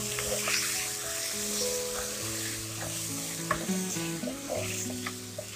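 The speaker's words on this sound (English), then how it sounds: "I have taken here 500 grams of chicken here, and we need to fry this well." Chicken, about 500 grams, fries and gets stirred in a pan for a spicy Andhra chicken curry, giving a steady close sizzle with scraping stirs over a background of music tones, without speech.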